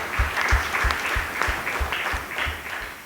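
Applause from a church congregation during a Sunday service, a short burst of rhythmic clapping, fairly close and steady, with a few voices faintly underneath.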